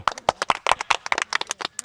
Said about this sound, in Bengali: সবাই করতালি দেই।